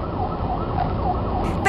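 An ambulance siren wails at the scene of a highway crash where a truck rear-ended a small car. The siren is steady and fairly loud over road traffic noise.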